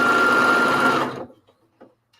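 Sewing machine stitching puffy fabric for a grocery bag, a loud fast whirring run lasting about a second before it stops abruptly, followed by a few faint clicks and handling noises.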